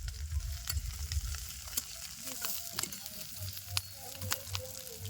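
Sliced bitter gourd sizzles steadily in a generous amount of hot oil while being stirred, with intermittent scrapes and clicks of the utensil against the pan over a continuous low frying hiss.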